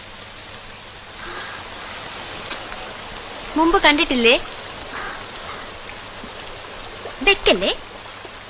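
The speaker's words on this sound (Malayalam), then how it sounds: "ഹായ്, മഴ." Steady rain falls in a constant hiss throughout, with a person speaking briefly over it twice.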